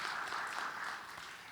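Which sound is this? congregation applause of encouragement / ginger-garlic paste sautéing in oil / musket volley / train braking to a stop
congregation applause of encouragement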